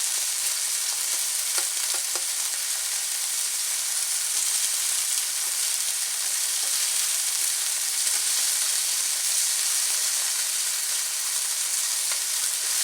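Goose stir fry frying in an open pan without a splatter guard, giving a steady loud sizzle with scattered pops and splatters throughout, no talking.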